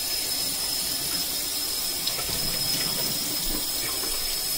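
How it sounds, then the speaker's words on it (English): Cold tap water runs steadily over a telescope's primary mirror from a Celestron StarSense Explorer 130 reflector, making a loud, continuous rushing splash in a sink without any speech. "I'm just gonna run it over cold water"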